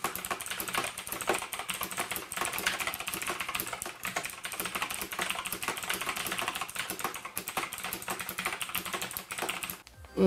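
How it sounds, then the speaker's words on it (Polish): Steady, fast typing on a Sharkoon Skiller SGK3 metal mechanical keyboard with blue switches, producing dense clicky keystrokes close up and continuous for about ten seconds before a brief stop. "Tak więc posłuchajmy niebieskich switchy Kyle."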